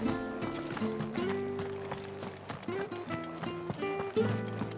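Hoofbeats of Ambrosia, the chocobo mount from Final Fantasy XVI, clip-clopping at a steady running rhythm beneath a melodic game music score, close and fairly loud throughout.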